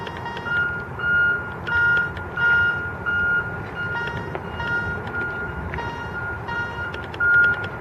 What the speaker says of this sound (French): moi je vais repasser un petit coup de détecteur à côté